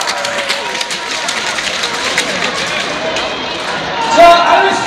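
Crowd noise fills a volleyball gym at Uijeongbu Gymnasium during a set match, with steady clapping and babble throughout and a brief squeak-like accent near the end.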